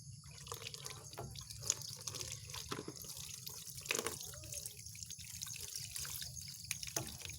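Tap water runs and splashes steadily while hands are rinsed under a faucet, a continuous low wash with faint drips and small splashes throughout.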